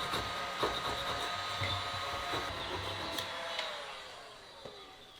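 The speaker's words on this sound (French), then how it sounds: "Un décapeur thermique, ça ressemble à quoi? Ça ressemble à ça, une espèce de gros sèche-cheveux." A continuous whirring blower hum from a heat gun at 300 to 500 degrees stripping shutters, with faint clicks of a small scraper scattered over it at moderate volume.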